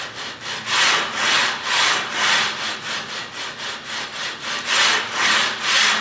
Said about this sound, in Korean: 스미스 머신의 소음과 운동하는 모습을 잠시 보여드리도록 하겠습니다.